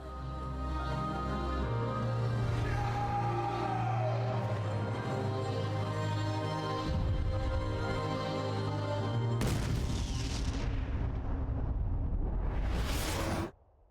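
Bomb explosion in the video game Metal Gear Solid V: The Phantom Pain, a loud sustained rumbling blast with layered booms, ending in a sharp whooshing burst that cuts off abruptly.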